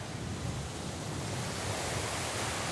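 Waves wash steadily onto a sandy Lake Michigan beach at a Wisconsin state park, a continuous broad roar of surf with no voices and no distinct breaks.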